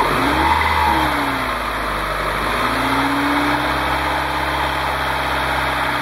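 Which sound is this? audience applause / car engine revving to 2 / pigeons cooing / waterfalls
car engine revving to 2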